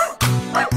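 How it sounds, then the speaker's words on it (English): In a children's nursery song, a dog gives two loud, close, yappy barks with a short gap between them, and the second cuts off at the end. "There was a farmer had a dog and Bingo was his name."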